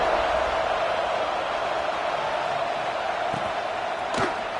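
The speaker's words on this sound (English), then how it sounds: "this crowd is buzzing after that last score" A dense, steady roar from a stadium crowd in the College Football 25 video game holds constant throughout, with a couple of brief thuds near the end.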